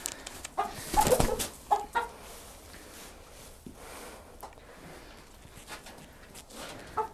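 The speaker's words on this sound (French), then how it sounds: "Attends, Nora, il y a une poule qui est rentrée" A hen clucks inside a chicken coop in a few close, sharp bursts of calls early on, then quieter scattered clucks with faint rustling around them.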